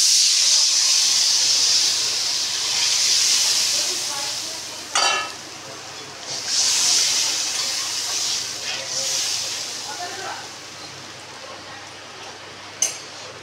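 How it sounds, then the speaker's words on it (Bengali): Water poured onto fried spice paste in a pan hisses and sizzles loudly, the steamy roar rising and falling in waves with a few sharp bursts, easing toward a bubbling simmer. "মশলাটা ভাজা হলো। এবার একটু জল দিয়ে দেবো।"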